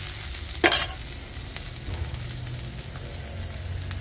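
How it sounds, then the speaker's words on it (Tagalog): Garlic and onion sauté in a pan, starting with a sharp clatter as they go in, then a constant close sizzle with soft stirring scrapes, and no one talking. "Ilagay natin na yung bawang, sibuyas."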